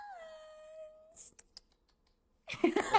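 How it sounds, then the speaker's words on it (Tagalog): A rescued cat gives one clear drawn-out meow up close, followed by a few faint soft sounds, silence and then brief speech. "Pakilala ko pala sa'yo na si Tachi! Ang napulot kong cat"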